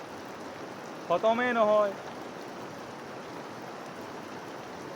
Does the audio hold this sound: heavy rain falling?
yes